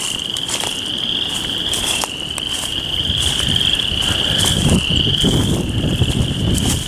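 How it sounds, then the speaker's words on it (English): A loud, dense chorus of croaking frogs in a swamp, mixed with a steady high insect-like trill, continuous throughout. "Hear those frogs."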